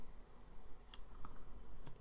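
A few faint, sparse clicks of a computer keyboard as a search is typed, close but quiet against a near-silent room.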